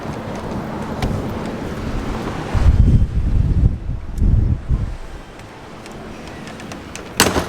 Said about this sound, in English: But I didn't account for the wind.